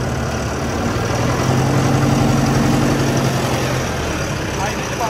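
A Mahindra Arjun Novo 4x4 tractor's diesel engine idles steadily close by, a low even rumble with a faint hum over a broad outdoor noise bed.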